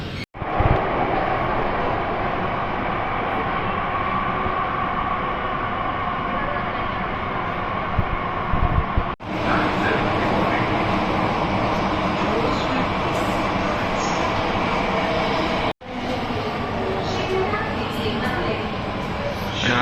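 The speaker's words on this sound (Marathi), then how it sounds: "गाडी आली आहे" A metro train arriving near Sheetala Devi Mandir station, Dharavi, roars and hums loudly, its steady rumble and whine running continuously with a couple of brief breaks.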